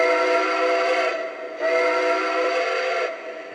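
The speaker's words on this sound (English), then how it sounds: "So when you blow the whistle, it'll shoot smoke out of the bottom and give the illusion of steam shooting out of the whistle." Whistle effect of a Lionel A6 Atlantic model steam locomotive: two long, loud, close steady toots with a short gap between them, the second trailing off, with no voices.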